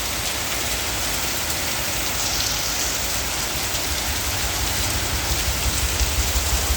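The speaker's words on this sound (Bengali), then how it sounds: "এত পরিমাণে বৃষ্টি হচ্ছে দেখো" Heavy rain pours down in a dense, unbroken hiss of countless drops striking surfaces, loud and close, holding steady for the whole stretch with no talking.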